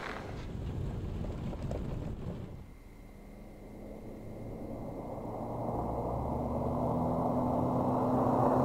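A Subaru and a Mini on winter tires accelerate side by side and then brake together, a broad rumbling of engines and tire noise that swells steadily louder and rises in pitch as the cars gain speed, with no voices.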